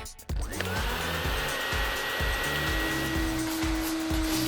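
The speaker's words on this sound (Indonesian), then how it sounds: "Penyedot debu itu bisa membantu." A vacuum cleaner runs with a steady, loud motor whine and airy hiss that starts abruptly and holds constant, with a sustained tonal hum and a repeating low thumping pattern underneath.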